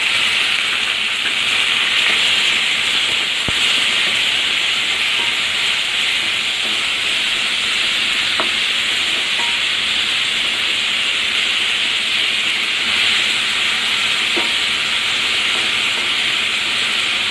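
Tomatoes sizzling in a hot pan with ginger-garlic paste for bitter gourd thokku, a steady loud hiss of frying that runs unbroken throughout, with a few faint clinks of a utensil.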